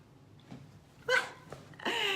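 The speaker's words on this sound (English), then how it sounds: "I'm babysitting my daughter's big brown lab, and she sounds vicious, even though she's not." A big brown Labrador barking loudly indoors, with a faint early yip followed by two sharp, forceful barks about a second apart, close and prominent.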